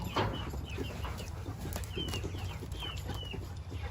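Chickens in a coop make soft, repeated clucks and short chirps at a moderate distance over a steady background hum, with no talking.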